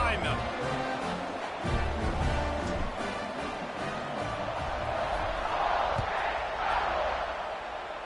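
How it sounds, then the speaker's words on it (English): A football stadium crowd roars at kickoff, a dense, sustained wash of cheering that sits under an announcer's play-by-play commentary throughout. "They're set to kick it off, and this crowd now ready to get behind them."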